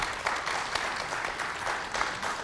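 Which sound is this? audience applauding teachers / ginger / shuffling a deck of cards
audience applauding teachers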